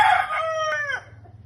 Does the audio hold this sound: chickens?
yes